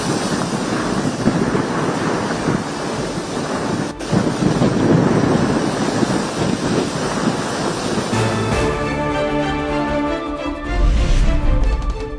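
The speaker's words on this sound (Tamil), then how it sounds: "எண்ணூர் முகத்வாரத்தில் கடல் சீற்றம். 6 அடி உயரத்திற்கு எழும்பும் ராட்சத அலைகள்." Rough sea at the Ennore estuary with giant waves about six feet high, a loud continuous roar of surf and wind rumble, with a heavy wave crash near the end.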